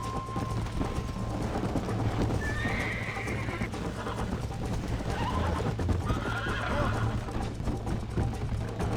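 A horse gallops hard through a race in Red Dead Redemption, its hoofbeats drumming in a fast continuous rhythm up close, with a couple of loud whinnies breaking through midway.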